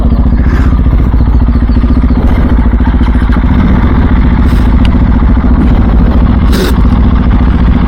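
Aprilia RS4 or KTM motorcycle engine running steadily close by, a loud continuous idling rumble with faint clatter throughout, nobody talking over it.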